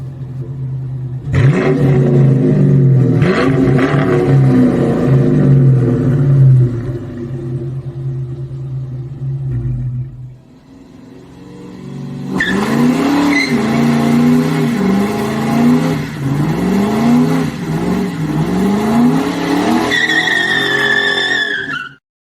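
A car engine revs loudly up and down, then after a brief pause roars again in long, sweeping revs close by.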